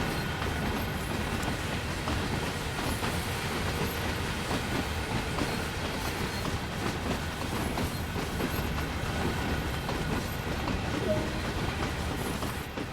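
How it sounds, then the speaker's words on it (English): A train from Train Sim World 2 rolls steadily past outside, its wheels clattering over the rails in a continuous, moderately loud rumble that holds for the whole stretch with no voices. "That train's still going out there."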